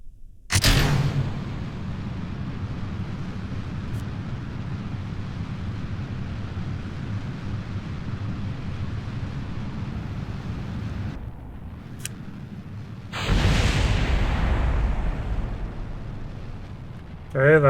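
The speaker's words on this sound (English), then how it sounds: "there was a very large explosion there, but everything's holding together. I think that was the top decouplers smacking into the boosters" A large explosion in Kerbal Space Program as top decouplers smack into the boosters: a sharp blast, then a long rumbling roar, then a second heavy burst near the end.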